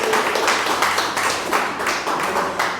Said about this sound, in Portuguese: E as palmas louvam a Deus